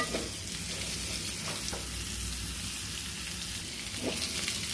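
Onions cooking in butter for onion soup sizzle in a steady, close frying hiss, with a few soft stirring scrapes and no voices.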